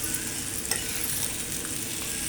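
Masala bhindi (spiced okra) frying in a pan: a dense, steady sizzle, close and even throughout, with a faint stir or clink partway through.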